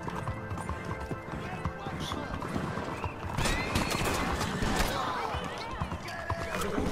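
Video game horse galloping with rapid, steady hoofbeats and loud whinnies, near and prominent, while a person talks over the action.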